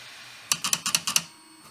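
A Creality Hi 3D printer's CFS filament discarding system ticks out six sharp, evenly spaced clicks close up, loud against a quiet mechanical hum.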